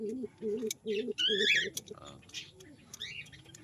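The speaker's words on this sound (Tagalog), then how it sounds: "ito nga pala ang pares ng aking alagang kalapati dito sa aking loft" Homing racing pigeons coo in low, repeated rolling notes in their loft, close by, with a few higher chirps and light rustling; voices murmur faintly in the background.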